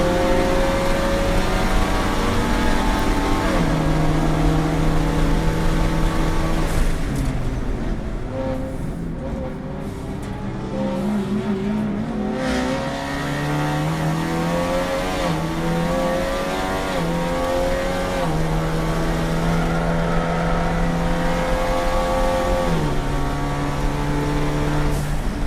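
A GLTC race car accelerates down the long straight at Circuit of the Americas, its engine climbing through the gears in loud, close, repeated rising whines with brief dips at each upshift.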